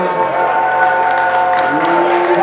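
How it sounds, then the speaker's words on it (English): Wedding reception guests applaud the bride and groom, a steady, dense wash of clapping that fills the room and holds at a constant level throughout, with some crowd murmur mixed in. "Having a nice round of applause"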